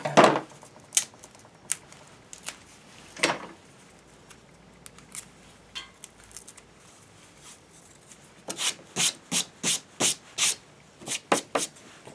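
A stick of two-part epoxy is cut for a stove repair, with scattered dry scraping clicks and then a quick run of about ten short sharp cuts near the end.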